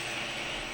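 A tow truck's engine runs outside while it pulls a car out, a steady broadband rumble with a drone, heard muffled and continuous with no talk over it.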